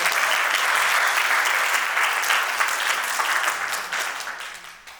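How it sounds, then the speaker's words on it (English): A conference audience at an entrepreneurship fireside chat in Zambia claps warmly as speakers come on stage, a dense steady wash of applause that gradually fades toward the end. "Please applaud them as they come up."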